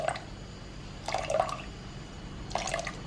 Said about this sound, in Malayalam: ഇതിലോട്ട് നമ്മളൊരു 3 മൂടി വൈറ്റ് വിനീഗറും കൂടെ ഒഴിക്കുന്നുണ്ട്.